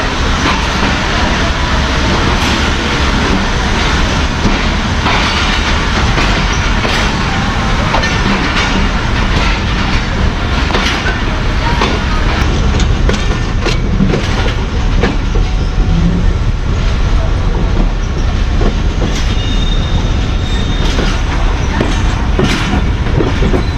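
The Badar Express, travelling from Lahore to Faisalabad, rumbles loudly and continuously from a coach behind the locomotive, with rhythmic clickety-clack of wheels on rail joints over a heavy, steady roar.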